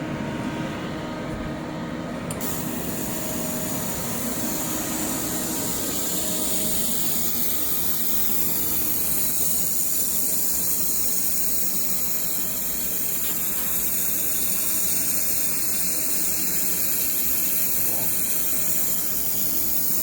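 A handheld air-cooled laser welder runs a wobble weld, a loud steady rushing hiss and whine that holds without a break, close by, with no speech over it.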